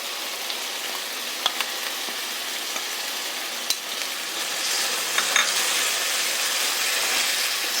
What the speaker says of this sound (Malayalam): ആദ്യമായിട്ട് അരച്ച് വെച്ചിരിക്കുന്ന മസാല ചേർക്കണം.